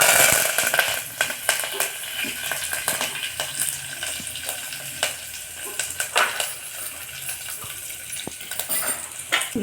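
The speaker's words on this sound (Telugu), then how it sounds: "ఇప్పుడు ఆవాలు వేసుకుందాం జీలకర్ర కరివేపాకు" Mustard seeds, cumin and curry leaves crackle and sizzle in hot oil for a fenugreek dal tempering, a steady close frying hiss scattered with sharp pops and a few utensil clinks.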